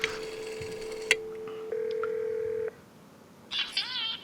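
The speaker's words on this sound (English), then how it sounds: "I'm gonna call Miss Mittens here" A telephone dials out in a comedy sketch: a quick burst of touch-tone beeps, then a steady dial tone that cuts off, followed by a short warbling ring signal, all clear with no talking.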